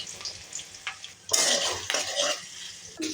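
Onions fry in a pan with a close, crackling sizzle. A utensil stirs and scrapes against the pan in bursts, with brief clinks at the start.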